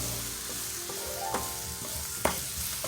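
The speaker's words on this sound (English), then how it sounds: "my minced garlic, and I'm going to saute that also" Minced garlic sautéing in a pan for black-eyed peas, a steady close sizzle with a couple of sharp utensil clicks against the pan, no talking.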